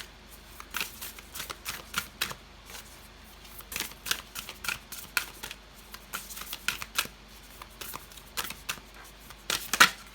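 Tarot cards being shuffled and drawn for a reading, giving repeated crisp riffling and slapping bursts at an irregular rhythm, close and fairly quiet, with no voices.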